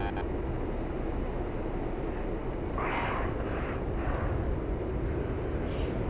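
Fighter plane spinning in during a dogfight flight game, a steady loud engine roar and rushing wind filling the clip with a few brief whooshing surges partway through.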